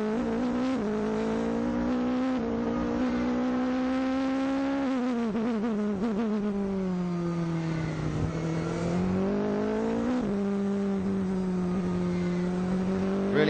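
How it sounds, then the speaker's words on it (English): Onboard sound of an A1GP race car engine lapping the Chengdu circuit in 2008: a loud, continuous high-revving whine that climbs, dips and rises again as the throttle is fed through corners. "Let's just listen to that engine working around this Chengdu circuit."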